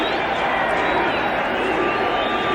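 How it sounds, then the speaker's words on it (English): Football stadium crowd at a 1980 Detroit Lions vs Minnesota Vikings game, a dense, continuous roar from thousands of fans with rhythmic chanting buried in the din, heard at a distance and steady throughout. "You can hear the crowd chanting defense"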